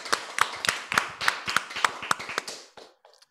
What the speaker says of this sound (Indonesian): kita beri tepuk tangan penyemangat dulu kepada Sulawesi Tenggara